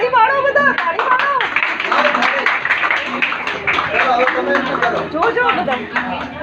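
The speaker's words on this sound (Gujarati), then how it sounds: "તાળી પાડો બધા, તાળી પાડો" Clapping from a group of guests at a godh bharai baby-shower ceremony, steady scattered applause mixed with lively chatter and voices throughout.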